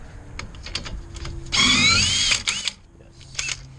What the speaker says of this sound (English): Cordless gun now.